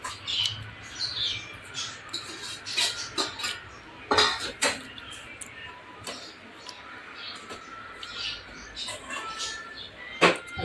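Semolina roasting in ghee in a pan while mawa is added comes through as irregular scraping and clinking of a metal spoon against the pan, near and moderately loud, with a voice speaking at times.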